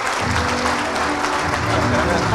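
Dense applause from a crowd gathered with farmers at a harvest event fills the whole stretch, loud and steady without a break.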